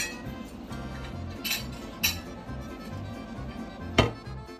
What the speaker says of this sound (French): On sort les pommes de terre, on les dépose dans une assiette pour les laisser refroidir.